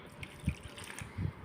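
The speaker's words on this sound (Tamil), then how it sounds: "ஊற்றிட்டு இதில் இருக்க தண்ணியை கொஞ்சம் ஊற்றலாம்." Water is poured into leftover rice mixed with curd, giving a few short, close splashes and trickles, faint and without talk.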